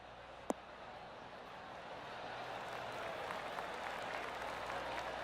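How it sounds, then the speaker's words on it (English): Golf spectators give a gentle ripple of applause after a 9-iron shot, soft distant clapping that swells slightly and holds steady, with one sharp sound near the start. "That deserves a golf clap."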